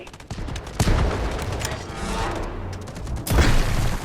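Sustained gunfire from a Delta Force Mobile attack-and-defend battle, with continuous rapid bursts and booming shots layered throughout, swelling louder near the end, with no talking over it.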